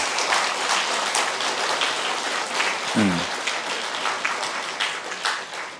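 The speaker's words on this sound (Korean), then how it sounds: "그러니까 부인들에게, 엄마들에게 박수 한번." Church congregation at a Korean Sunday morning service clapping for wives and mothers, dense steady applause from many hands throughout, with a short low thump partway through.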